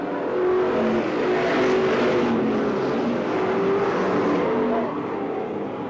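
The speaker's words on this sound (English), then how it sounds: "45, Kevin Ray's running there in 6th as we complete lap number 6 this time by" Race cars pass along the main straightaway of an oval during a race lap, a steady loud roar of several engines blending together for the whole stretch, with a slight swell partway through and a commentator talking over it.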